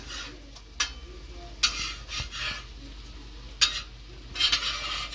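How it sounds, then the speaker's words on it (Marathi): Eggs frying on a tawa are turned with a metal utensil, giving sharp scraping clinks over a faint, steady sizzle. "एका साईडने आपली जरा थोडी फ्राय करून झालेली आहे. आता आपण याला पलटी मारून घेतोय."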